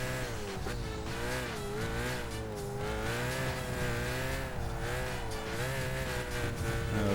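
A race car engine, likely an Alfa Romeo, drones and revs steadily in Gran Turismo 5, its pitch rising and dipping continuously through the whole stretch with no voices.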